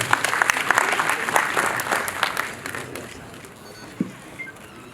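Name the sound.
audience clapping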